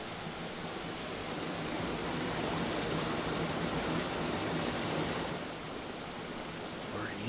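Flowing water of a man-made river on the Waterfall Run mini golf course at Kimball Farm: a continuous broadband rushing wash, steady and moderately loud, with no voices.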